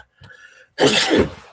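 A person sneezes once, close and loud: a brief intake of breath followed by a sharp, forceful burst that quickly fades.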